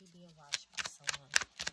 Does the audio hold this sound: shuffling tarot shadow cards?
yes